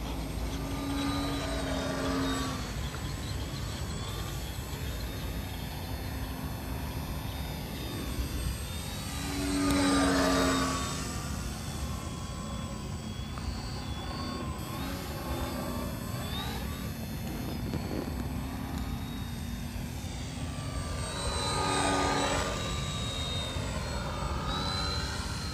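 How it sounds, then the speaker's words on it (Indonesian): Small Mini Ugly Stick RC trainer airplane with a 90 cm wingspan, flying outdoors in light crosswind; its engine drones continuously with a high whine, swelling loudly on close passes around ten and twenty-two seconds and fading as it circles away. "Udah enak banget ini pesawatnya."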